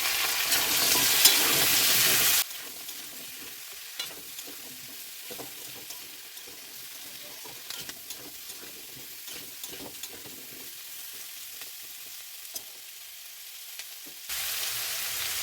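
Pieces of potato, pumpkin and onion sizzle loudly in a hot pan at first. The sizzle then drops to a quiet background of small crackles and stirring taps, and the loud frying hiss returns near the end.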